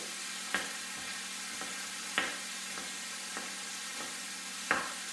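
Chopped onion frying in oil in a pan hisses with a steady sizzle, broken by a few sharp stirring scrapes spaced through the clip.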